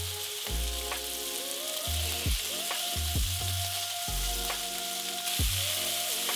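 Pork searing in a pan over medium-high heat, a loud, steady close-up sizzle with a few clanks and scrapes from moving the meat, no speech.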